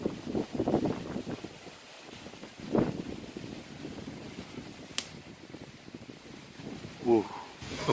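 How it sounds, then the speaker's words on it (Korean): A sudden mountain gust blasts across the microphone in uneven roaring bursts on a rainy hike, with people speaking briefly over the rushing wind. "어우, 바람이 갑자기"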